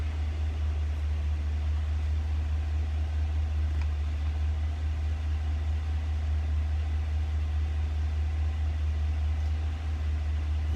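A Chevy Silverado pickup engine idles with a steady, loud low hum and constant broadband noise, unchanging throughout.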